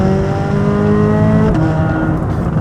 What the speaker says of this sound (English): That's part throttle acceleration, by the way. That's not even wide open.